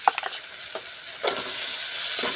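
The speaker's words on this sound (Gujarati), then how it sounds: "થોડુંક અમથું જીરું નાખી દઈએ" Cumin seeds and chilli powder sizzle and crackle in hot oil for tempering masala Maggi noodles, a steady close hiss with a few sharp pops and stirring scrapes, no voices.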